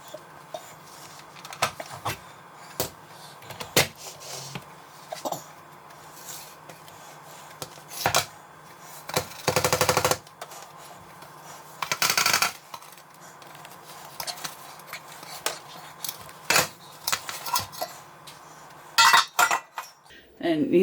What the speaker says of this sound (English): So I will get it pulled out of here and cut it open so you can see the inside.